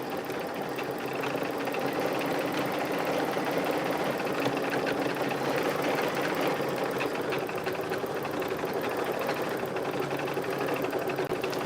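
Embroidery machine stitching a design, a continuous close mechanical hum and rapid needle chatter running steadily throughout without pause.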